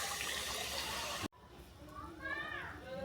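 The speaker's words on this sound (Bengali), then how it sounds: "আমি এবার জল দিয়ে ফুটতে দেবো।" Water poured into a pan of oil-fried curry masala for a jackfruit chicken kofta curry gives a steady broadband rush and sizzle, broken by a sudden cut, then a quieter bubbling hiss with some faint tonal sounds.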